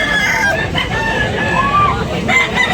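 A 16-month-old rooster crows loudly and close at a market in Tabunok, Talisay, Cebu, its call drawn out over a couple of seconds against a busy background.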